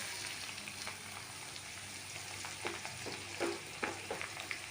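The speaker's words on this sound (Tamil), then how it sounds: "ஸோ பூண்டு வந்து ஓரளவுக்கு நல்லா வதங்குற வரைக்கும் வெயிட் பண்ணுங்கள்." Garlic sautés in a hot pan with a steady soft sizzle and occasional stirring scrapes and clicks, with no voices.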